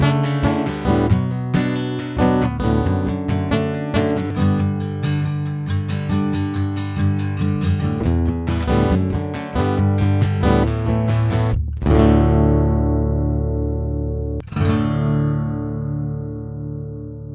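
Plucked acoustic guitar recorded directly through a DI, playing a busy fingerpicked passage with a dry, direct tone, ending on two ringing strummed chords that fade out.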